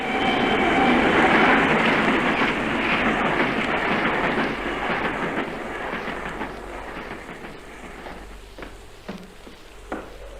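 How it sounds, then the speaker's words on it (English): A train rumbles steadily along the rails while it is switched onto a siding, loud at first and then fading, with clicks and faint wheel squeals toward the end. "now I'm going to switch that ghost train onto the siding"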